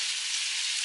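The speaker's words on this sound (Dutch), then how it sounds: "horen jullie vlees bakken" Hamburger meat fries in a pan with a steady, close hiss and crackle that runs evenly and alone for under a second.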